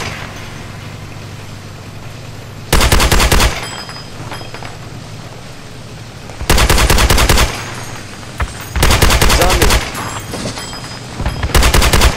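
Loud bursts of automatic gunfire in Project Reality, a naval close sea support setting, arrive as four distinct blocks of rapid shots separated by a steady low engine hum.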